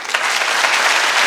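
An audience at a Kimbanguist symphonic music show bursts into dense, steady applause, loud and close, a brief wash of clapping with no talk over it.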